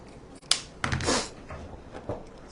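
Scissors cut a length of wreath ribbon up close, giving a sharp snip followed by a short crisp rustling cut and a fainter second snip, quiet and without speech.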